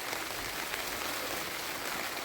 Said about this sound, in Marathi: पावसाने राडाच केलाय